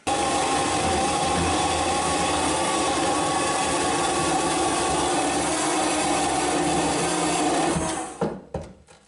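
A small machine, machining a quick-change tool holder, grinds steadily through a big chunk of steel with a dense, continuous whir for several seconds, then winds down and stops with a few clunks.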